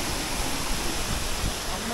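Rushing water of the blue waterfall at Dulapur, a steady broadband roar that stays constant and fairly close throughout, with no breaks in the flow.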